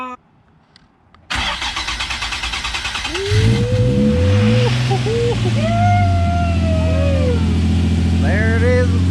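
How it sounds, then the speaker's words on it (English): A Nissan 350Z engine, just reassembled, cranks with a fast rhythmic churning, catches and fires up, then settles into a loud, steady running hum up close, with voices nearby. "The motor sounds really, really good."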